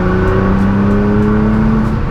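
A stock Nissan GT-R pulls hard in fourth gear, its engine a loud, steady, rising drone heard close and continuous throughout, with no talking over it.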